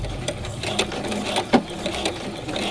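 A sewing machine stitches a waistband seam along a quarter-inch line, its needle chattering in quick rhythmic bursts with a few louder mechanical clicks, close and alone.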